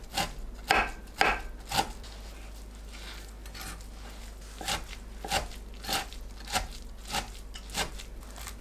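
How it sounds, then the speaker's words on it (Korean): Mugwort being chopped into small pieces with a knife on a board, a series of sharp close chops at an uneven pace, with a short pause in the middle and faint background hum. "작게 썰어줍니다"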